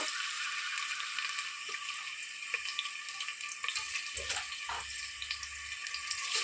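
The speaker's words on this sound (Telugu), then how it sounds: "మూడు ఉల్లిగడ్డ వేసానండి ఫ్రై చేసుకున్నాము" Onions fry in hot oil for a mutton curry with a steady, broad sizzle that sounds close and continuous. Brief stirring clunks break in midway. No one speaks.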